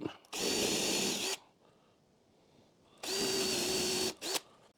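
A power drill fitted with a stop collar bores into a wooden stool seat in two loud bursts of about a second each, with a quiet pause between them and a short blip at the end of the second.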